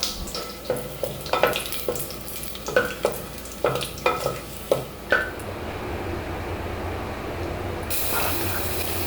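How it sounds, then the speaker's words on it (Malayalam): Cardamom, cloves, black cardamom and a bay leaf sauté in hot oil for paneer biryani, a spoon stirring in sharp rhythmic scrapes over a steady close sizzle that continues alone once the stirring stops. "മൂന്ന് ഏലക്ക നാല് ഗ്രാമ്പു ഒരു കറുത്ത ഏലക്ക ഒരു വഴണിയില എന്നിവ ചേർത്ത് വഴറ്റിയെടുക്കാം"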